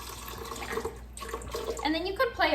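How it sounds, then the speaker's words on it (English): Water poured into a blender jar for a Shakeology shake: a steady splashing pour close by that grows louder and more gurgling toward the end. "I'll just pour some water in for today."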